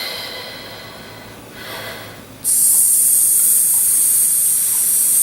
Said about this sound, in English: So breathing in and out,